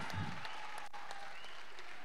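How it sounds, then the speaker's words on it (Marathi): Spectators applaud at a kabaddi match final, a brief burst of clapping at the start fading into a faint, scattered patter, with crowd murmur behind. "टाळ्यांचा गजर होतोय."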